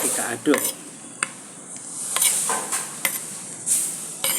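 Rujak pare, a bitter gourd salad, is stirred in a bowl, with scattered clinks and scrapes against a soft background hiss and no voice.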